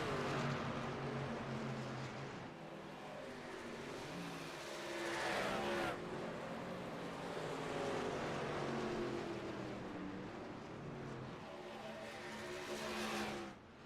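Race cars run flat out in iRacing at Atlanta, several engines droning at high revs with pitch swells as cars close in and pass, a steady, fairly loud roar throughout.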